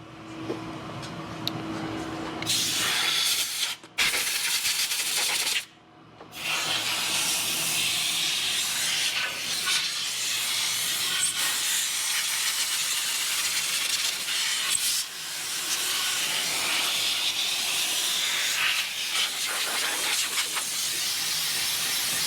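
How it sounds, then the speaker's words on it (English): Compressed air blasts through the fuel system area of a Kawasaki KRX 1000 side-by-side as a loud, continuous close hiss that stops briefly twice early on, then resumes steadily for about fifteen seconds. "I'm gonna get out my air"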